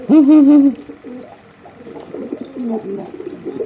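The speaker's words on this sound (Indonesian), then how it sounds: "Nah, itu merpatinya" Young pigeon cooing close by, a loud rolling coo followed by softer, broken murmuring coos.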